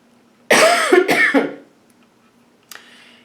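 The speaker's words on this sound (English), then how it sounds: "I have to cough, so hold on." A single person coughs, with a couple of harsh bursts in quick succession close to the microphone, followed by a brief faint throat sound after a pause.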